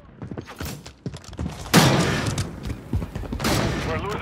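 Gunfire in Call of Duty Modern Warfare 3 multiplayer, with rapid close shots and two loud blasts amid battle noise, with voices calling out in between.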